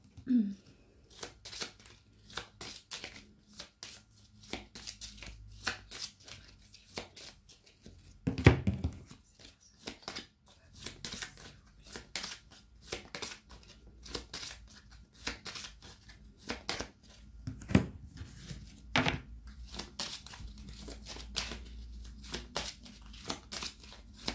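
Tarot cards are shuffled for a general reading in a steady run of soft, rapid riffling and flicking, with a few louder slaps and thumps against a table; no one speaks.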